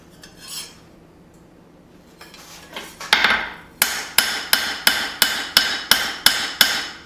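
Light hammer blows tap dents out of a forged knife blade, a few scattered strikes first, then a quick steady run of about ten bright metallic taps, close and clear with no talking.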